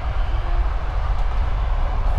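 Steady low rumble and rolling hum inside a warm passenger train carriage on the move near Lake Baikal, a continuous loud drone with no talk.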